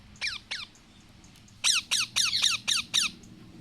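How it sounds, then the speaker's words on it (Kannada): Parrot chicks squawk in harsh, strident calls, two near the start and then a rapid run of six close together, loud and near with no talking. "ನೋಡ್ರಿ ಎಷ್ಟು ಮುದ್ದಾಗಿ ಕೂಗ್ತಾವಂತ ನಮ್ಮ ಗಿಳಿ ಮರಿ"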